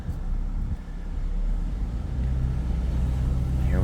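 A 2021 Nissan Frontier Pro-4X pickup in four-high with the diff lock engaged pulls away, its low engine rumble and road noise swelling steadily with some wind buffeting.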